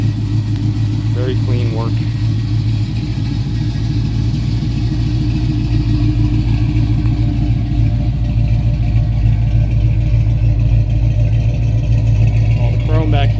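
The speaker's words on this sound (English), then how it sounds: "I hate to talk over this beautiful noise of this exhaust." Exhaust rumble from a restored 1968 Dodge Charger R/T with a 440 big block V8, a steady, loud, deep idle throb close by for the whole stretch, with someone talking over it.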